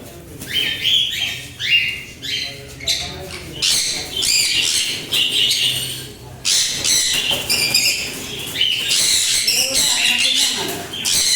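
A dense, loud chorus of caged breeding birds on a bird farm with leg-ringed birds and breeding boxes, countless overlapping chirps and chattering calls pouring out continuously with little pause.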